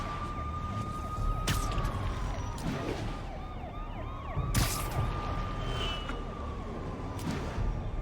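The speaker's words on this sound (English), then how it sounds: "It's not like having blaring sirens is gonna alert anyone and tell them that there's someone important here." Police sirens blare in the Marvel's Spider-Man video game, a wailing tone sweeping up and down over a steady engine and traffic rumble, with a few sharp impacts cutting through.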